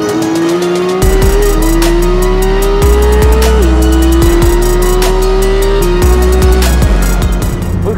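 A Porsche 911 GT3's flat-six engine revs hard toward its 9000 rpm redline, close and loud, its pitch climbing and then dropping at each of several gear shifts in a repeating surge.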